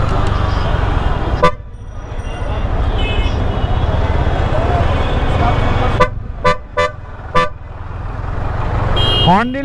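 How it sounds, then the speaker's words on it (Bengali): A bus horn honking in busy street traffic, several sharp loud blasts late on over a constant engine and road rumble, with a person talking in the middle. "হর্ন দিলে এই বাস দাঁড়াইতে বাধ্য।"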